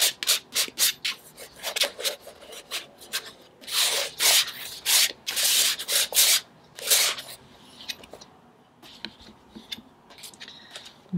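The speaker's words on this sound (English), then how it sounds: "I kind of want to scrape, so scraping it is." Palette knife scraping paint across an art journal page, a run of close, rhythmic rasping strokes in quick bursts, then a few sparser scrapes, with no talking.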